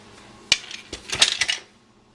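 A half teaspoon of dry ingredient tipped from a metal measuring spoon into a mixing bowl for a home economics recipe: a sharp clink, then a short cluster of light taps and rattles, close and quiet.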